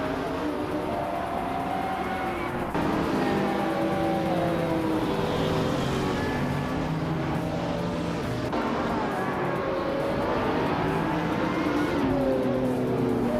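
Racing cars in a video game race, including a 2012 Noble M600, roar continuously with layered engine drones that rise and shift pitch as the pack speeds along. The sound is loud and steady, without a break.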